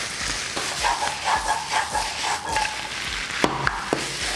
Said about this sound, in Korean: 여기에 간장, 그리고 설탕, 넣고 볶아주시면 됩니다